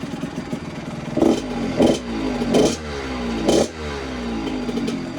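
A mini bike engine with a sealed exhaust runs nearby, revving in four distinct bursts over a steady clattering idle, with no one talking.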